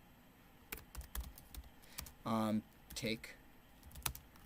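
Computer keyboard typing in scattered clicks and short bursts at a desk, recorded up close, with a brief spoken word mixed in among the keystrokes.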